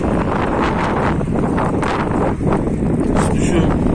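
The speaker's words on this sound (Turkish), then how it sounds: "Arkadaşlar acayip bir rüzgar başladı" Strong wind buffets the microphone in a steady, loud roar with gusty swells throughout and no clear voices.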